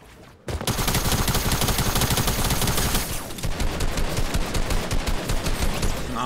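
Rapid automatic gunfire from an AR and SMG in a close fight in Fortnite, a dense, loud fusillade of overlapping shots running almost continuously after a brief quiet start, close and without talking.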